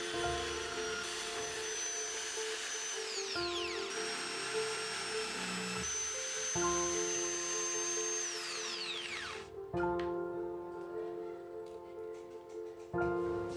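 An electric drill boring a hole through the mark on an L-shaped metal piece, close and steady, with a whining motor tone that rises and dips as the bit bites, then stops and restarts near the end.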